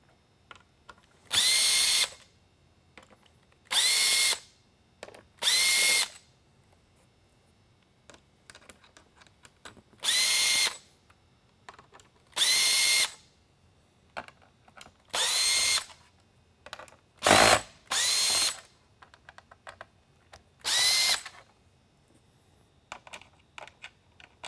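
Power drill backing screws out of the thin powder-coated aluminum top shroud of a StarBurst Half-Phantom, a run of short, loud whirring bursts separated by pauses and small clicks of handling, with no talking.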